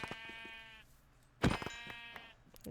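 A Minecraft sheep bleats with a nasal wavering cry, then a second, louder bleat a moment later, both close and clear with only a brief word of speech.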